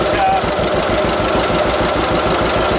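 A John Deere AR tractor engine runs at a steady idle with a loud, rapid, evenly spaced chugging knock throughout, belted up to an old plate grinder, while someone talks over it.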